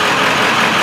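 A 1995 Ford F-250 with the 7.3L diesel idles roughly, its steady, dense engine rumble running close and loud throughout the short stretch with no talk.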